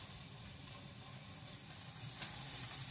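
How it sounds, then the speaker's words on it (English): Chopped sausage links and bacon sizzling as they brown in a pan: a steady, quiet hiss of frying fat that continues evenly throughout, with a slight swell near the end. "I'm adding some bacon also to this. And we're just gonna brown this up before I put the ground beef in."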